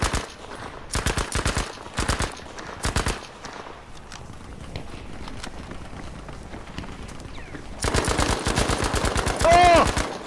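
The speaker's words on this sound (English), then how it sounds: "I'm shooting. I'm trying to keep their heads down." Gunfire in Battlefield V: bursts of rapid automatic shots in quick rhythmic volleys, a cluster early on and a dense loud run near the end, with quieter battlefield ambience between them.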